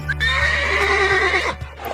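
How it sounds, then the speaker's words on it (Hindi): A horse gives a long, loud neigh, a rising then wavering whinny close by, with no talk over it. "Yes, it's a horse"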